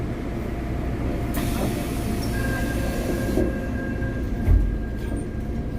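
Subway train running on the rails, a steady loud rumble of wheels and carriage with a faint squeal and a brief clunk near the end, with no voices over it.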